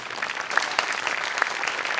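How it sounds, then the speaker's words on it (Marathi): An audience bursts into brief, dense applause at a live comedy show, many hands clapping at once, close and steady for a couple of seconds. "त्यांच्यासाठी एकदा टाळ्या वाजल्या पाहिजेत"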